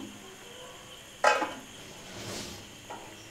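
A metal lid lifted off a pot of boiling rasgulla, a single sharp clink followed by a brief clatter, close and fairly loud against a quiet kitchen hiss, with a softer clink about a second and a half later.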